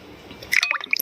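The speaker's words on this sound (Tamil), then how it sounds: "இப்போ தண்ணி ஆட் பண்ண போகிறேன்" Water is poured into a pot of ground-masala chicken kuzhambu, giving a short burst of splashing and dripping after a quiet start.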